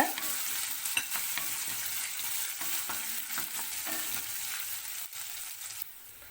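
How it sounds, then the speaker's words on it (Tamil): Ginger sautéing in a pan for dal tadka gives a continuous bright sizzle with occasional stirring scrapes, close and steady, easing slightly near the end, with no talk. "இப்போ இதை நல்லா கலந்து விடுங்க இந்த பச்சை வாசனை போகிற வரைக்கும் நல்லா வதக்கிக்கோங்க"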